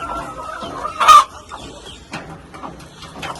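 A hen clucks close by near rabbit hutches on a small farm, a short run of soft clucks with one louder squawk-like burst, then quieter intermittent clucking.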